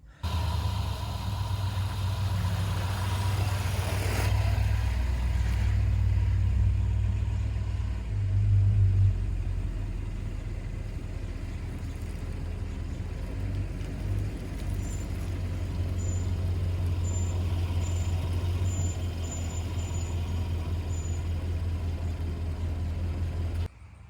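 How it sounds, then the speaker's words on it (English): A 2011 Range Rover Sport Supercharged idles and maneuvers while backing around near a sunroom, with a low, steady engine rumble throughout, a brief swell in the middle, and faint high chirps toward the end. "I'm gonna back the truck around so it's closer to the door of the sunroom"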